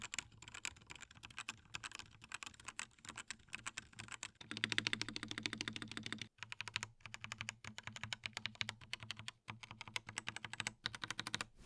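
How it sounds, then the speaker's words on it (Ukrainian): Steady, rapid keystrokes on a Gamepro MK170 mechanical keyboard with well-lubricated switches, soft clacky taps in an even flurry with a couple of brief pauses; close and fairly quiet. "А що дає їй такий приємний тайпінг? Так це добре змащені свічі"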